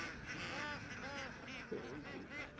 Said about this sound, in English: And right over here by the temples, look at all these ducks.